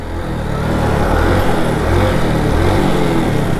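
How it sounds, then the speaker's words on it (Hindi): A motorcycle lurches as its clutch is dumped abruptly, the engine note swelling into a loud, uneven rev that bogs and pulses close by, with no talk over it. "ये देखो क्लच बंद करके दोबारा छोड़ो झटके से"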